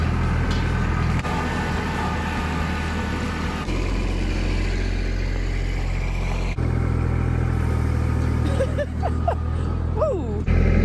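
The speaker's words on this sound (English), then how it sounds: "Trusty tractor." Farm tractor engine runs after warming up, a steady loud mechanical rumble close by with shifting tone, while people talk over it.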